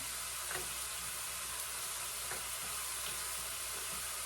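Steady loud sizzling of flat steak frying in a hot pan, with a few soft scraping stirs breaking through the crackle.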